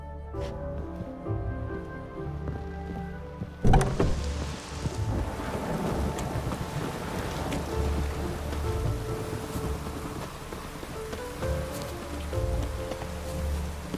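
Steady rain falls over a town in The Witcher 3, a constant hiss of drops that begins after a sudden thump and keeps on at moderate loudness, with no voices.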